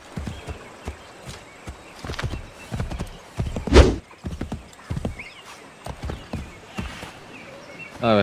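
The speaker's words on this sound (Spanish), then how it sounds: "Voy a tomar prestado este caballo." Horse hooves clip-clop in Assassin's Creed III, uneven clusters of sharp hoof strikes with a loud thump near the middle and a brief whinny, close and clear.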